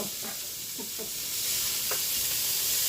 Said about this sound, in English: And saute until our onions are translucent.